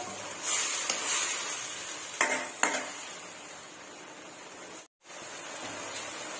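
Thin rat meat stir-fried in a pan makes a steady, close sizzle, with a few sharper scrapes and knocks from the utensil against the pan.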